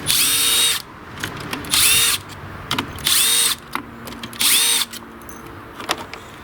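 A power drill with a 5/16 socket whirs in four short, loud bursts with brief pauses between them while backing out a bolt on a Briggs & Stratton engine cover, with faint clicks of the tool in the gaps.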